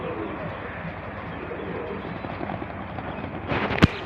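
Pigeons coo softly in the afternoon amid a hiss of background noise, ending with a single sharp click near the close.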